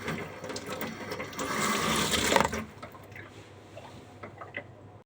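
Tap water runs over raw chicken being washed, a loud rushing gush of water for a couple of seconds that then cuts back to quieter sink sounds and light handling.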